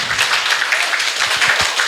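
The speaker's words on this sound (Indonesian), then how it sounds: "Terima kasih, tepuk tangan." An audience at a school training session on positive culture claps, with a close, continuous patter of many hands and sharper individual claps standing out.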